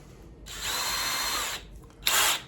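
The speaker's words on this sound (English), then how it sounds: "I'm using this small drill bit, and it's not to drill the holes for the other side." A power drill with a small bit whirs steadily for about a second while boring a hole, stops, then gives a brief second burst, close and loud with nothing else heard.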